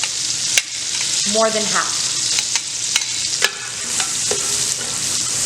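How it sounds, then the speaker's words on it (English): Onion fries in a pot for Toscana soup, a bright steady sizzle with occasional spoon clinks and stirring, and a voice briefly speaks over it. "So you're gonna add your onion."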